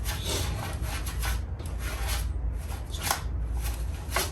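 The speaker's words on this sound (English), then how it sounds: "use your detail brush in those areas that you can't reach" A stiff detail brush scrubs grit and degreaser around a car engine bay, making steady, rapid rasping strokes that rise and fall in a brisk back-and-forth rhythm, close and fairly loud, with no talking.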